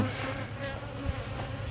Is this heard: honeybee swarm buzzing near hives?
yes